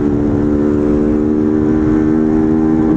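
A fuel-injected motorcycle engine holds a loud, steady, close-up drone, then revs upward sharply in the last moment; distinct exhaust pops are not clearly picked out.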